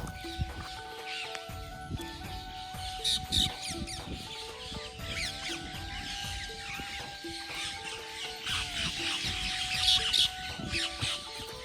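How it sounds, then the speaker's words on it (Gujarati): Dense, busy bird chatter fills a forest, many calls and chirps overlapping continuously with a steady background hum, fairly close and lively throughout. "કેવો ગજબનો કલકલાટ થાય."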